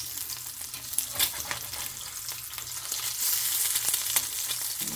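Eggs frying in an iron skillet, a steady broadband crackle and sizzle with occasional sharper pops and scrapes, continuous and close throughout.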